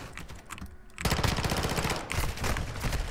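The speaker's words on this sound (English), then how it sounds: "Ow, I got shot through the doorway." Gunfire crackles in a ranked online shooter match as rapid, dense bursts of shots. The first is quieter, then a louder sustained volley starts after about a second and continues with brief pauses.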